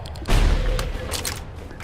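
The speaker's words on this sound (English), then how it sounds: "Let's try out the bolt driver." The bolt driver, a charged nail-gun-like weapon in ADACA, fires a single heavy, booming shot followed by a short rattling decay and a few faint mechanical clicks.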